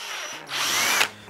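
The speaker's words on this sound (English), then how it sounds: "So again, I want to drill a hole." A power drill bores a hole through a plastic stormtrooper armour piece, a short close whine that rises briefly and then winds down, with no voices.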